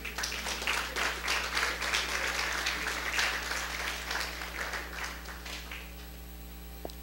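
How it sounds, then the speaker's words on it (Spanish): A church congregation applauds, a soft, fairly distant patter of many hands over a constant electrical hum, tapering off toward the end. "Un aplauso a los hermanos."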